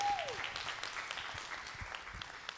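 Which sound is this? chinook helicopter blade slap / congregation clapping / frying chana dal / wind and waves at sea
congregation clapping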